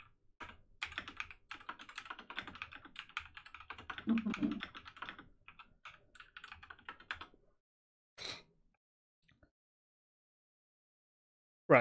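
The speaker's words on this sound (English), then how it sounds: "I hear you typing" Rapid typing on a computer keyboard during a Morse-code-themed puzzle game, clattering keys in irregular bursts for about seven seconds, then a few isolated clicks and knocks amid near silence.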